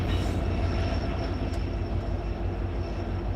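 A coal train rolling past on the Memphis District East End line in Alabama: a dense, loud low rumble of wagons on steel rails, steady throughout with a brief faint squeal, no voices.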